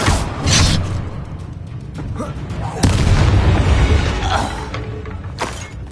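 Booming blasts and shattering crashes from Confringo blasting curses in the Hogwarts Legacy video game, loud and dense, layered with whooshes and rumbling battle noise.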